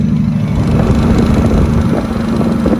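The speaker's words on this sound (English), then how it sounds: "That's what the Jake sound like outside the truck right now." A truck's engine brake on a 12.7-litre Detroit engine roars with a deep, rapid, steady rumble, loud and close, heard from outside the truck, continuing without a break and with no talking.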